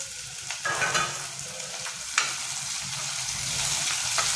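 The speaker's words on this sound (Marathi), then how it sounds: "कांदा लाल होईपर्यंत परतायचा आहे" Chopped onion sautés in a kadhai over a stove until reddish, crackling and sizzling steadily in hot oil, with occasional scraping strokes of a stirring spoon against the pan.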